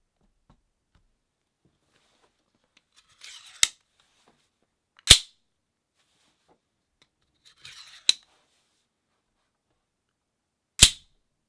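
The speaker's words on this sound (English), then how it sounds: "We'll fire this a couple more times for you guys." A Dalton Militia Cupid out-the-front automatic knife fires four times, each a sharp, loud snap of the blade shooting out or retracting, set apart by a few seconds of near silence, some preceded by a faint click.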